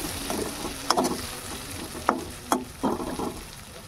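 Potatoes fry in a pan for cabbage curry, giving a steady close sizzle broken by several sharp clinks and scrapes as they are stirred.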